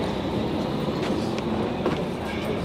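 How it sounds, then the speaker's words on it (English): A Zagreb city tram runs along its route to the bus station, a steady loud rumble of wheels and motor heard from on board, with faint rattles and no talking. "This is my tram that is taking me."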